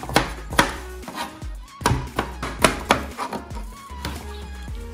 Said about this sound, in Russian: Возьмем килограмм очищенного картофеля, нарежем его на крупные слайсы